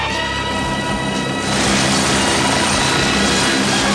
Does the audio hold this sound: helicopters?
yes